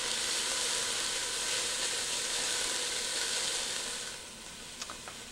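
Chopped vegetables for a bolognese sauce sizzle steadily in a hot pan, a dense continuous hiss that eases slightly near the end, with a few faint clicks of stirring.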